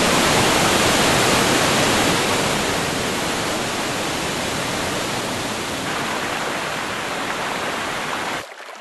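The Bhadra river, swelled by the Somavahini, rushes toward the Bhadra dam in a loud, steady broadband roar of flowing water that holds almost unbroken before dropping away sharply at the very end.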